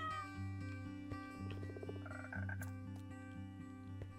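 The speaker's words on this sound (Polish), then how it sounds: "A, dobra, bo tu żaby były faktycznie." Frogs croaking in the Minecraft video game, several short repeated croaks over a steady, droning game music background, fairly quiet and with no talking.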